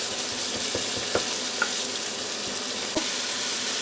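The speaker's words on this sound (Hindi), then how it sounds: "तकरीबन मुझे 2-3 मिनट हो गए इसको भूनने हुए" Keema fries in olive oil for chole keema, a dense, even close sizzle with a few light taps of a spoon stirring.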